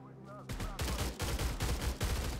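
Rapid bursts of automatic gunfire in the video game Stalcraft, loud and close, with several volleys in quick succession after a short quiet start.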